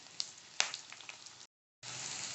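Steady crackling sizzle of onions frying in hot oil for a South Indian curry, with a couple of sharp pops, briefly cutting out before the sizzling resumes.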